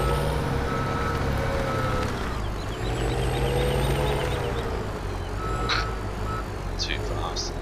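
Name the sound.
dump truck reversing beeps in Farming Simulator 2017 video game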